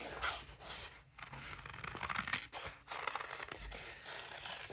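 Scissors cut a folded paper pumpkin shape freehand, a steady close run of crisp snipping and scraping with brief pauses between cuts.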